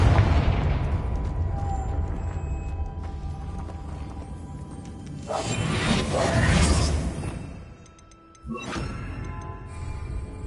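Confringo fire spell cast in the Hogwarts Legacy video game: a sustained rumbling game soundscape, then a loud whooshing burst and explosive boom that swells and fades, followed by a sharp second blast after a brief dip.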